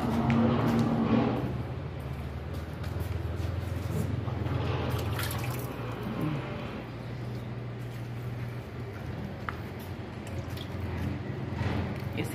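In an Indian toilet-frame factory, cement-like powder is stirred into water for a mould, giving faint wet squishing and dripping sounds over a low background hum, with occasional quiet talk.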